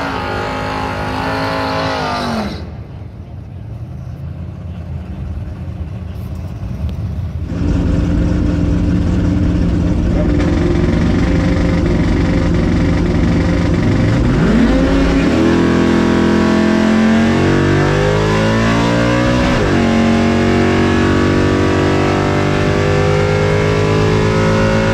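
High-compression small-block Chevy 350 with dome pistons and a solid roller cam, loud and close at a drag strip: a rough idle, a brief dip, then sustained roaring revs that climb and drop.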